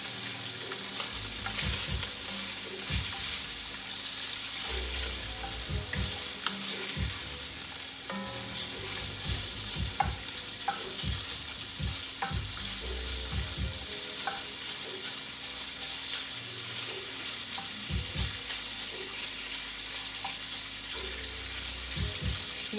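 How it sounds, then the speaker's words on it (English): Pre-cooked Hillshire Farm sausage sizzles steadily in a frying pan for Cajun chicken pasta, with stirring scrapes and knocks recurring throughout. The frying is close and continuous, and no one talks. "I'm going to turn it over with a slight stir."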